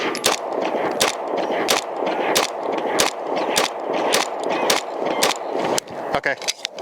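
A Staccato XC pistol fires about ten rounds in a quick, fairly even string at close range. Each shot is a sharp crack, with a brief pause near the end.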